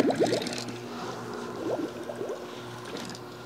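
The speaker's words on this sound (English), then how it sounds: "as soon as I set this into the water, it's going to auto start and begin filling up this bucket." Water splashes and gurgles as it pours into a bucket, with a faint hum from a Smartbot Robust 2800 pump underneath and a few bubbly bursts.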